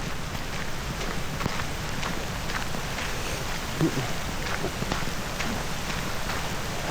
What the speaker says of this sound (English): I wonder how the rain sound in the camera. I would be curious because it's very noisy right now.